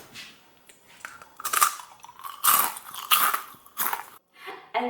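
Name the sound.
crunching homemade caramel popcorn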